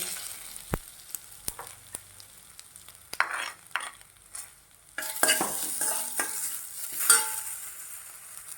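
Cumin, byadgi chillies and curry leaves sizzle in hot oil in a wok, with scattered stirring clinks and scrapes before a louder, steady frying hiss takes over, close and without talk.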